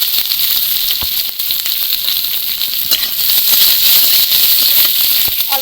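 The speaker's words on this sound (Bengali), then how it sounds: "পেঁয়াজটা একটু ভালো করে ভেজে নেব।" Chopped onion with a bay leaf and whole cumin frying in oil in a pan, a continuous bright sizzle with occasional light pops and scraping stirs, close and steady throughout.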